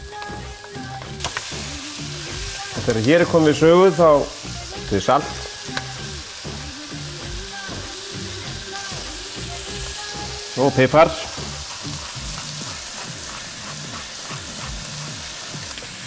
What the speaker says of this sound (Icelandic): Þetta steikjum við þar til að 3 til 5 mínútur þar til að kjúklingurinn orðinn steiktur á öllum hliðum.